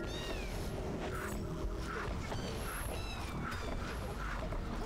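Cat enemies in The Swords of Ditto meow repeatedly, a series of short whiny mews with rising and falling pitch that overlap game sound effects and a constant busy backdrop of music and noise.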